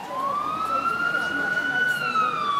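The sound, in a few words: emergency vehicle siren at car accident scene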